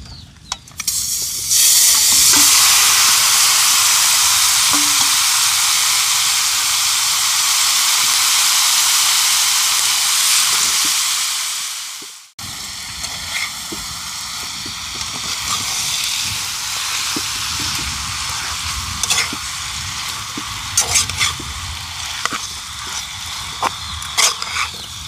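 Turkey neck meat fries in a pot of curry with a loud, steady hiss for about ten seconds. The hiss cuts off abruptly, then a softer, crackling sizzle continues with small pops.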